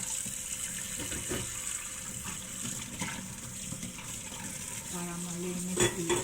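Dishes being washed under a running tap in a home kitchen sink, with a steady rush of water, clinks and scrapes of plates throughout, and a brief louder splash near the end.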